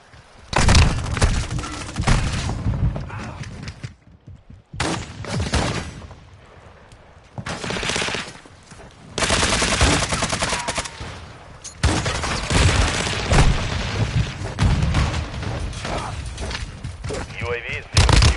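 Gunfire in the video game Modern Warfare 2 DMZ: dense, loud bursts of automatic fire come in several long volleys separated by short lulls, with booms and mechanical clatter among them.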